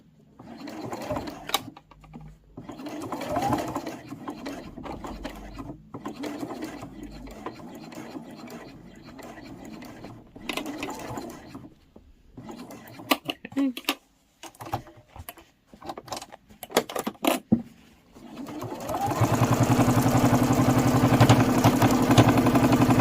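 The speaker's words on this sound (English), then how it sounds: "I'm just going to back stitch over there." A sewing machine back stitches across a cross-body sling bag, running in short bursts with brief pauses, then settling into a loud steady run near the end.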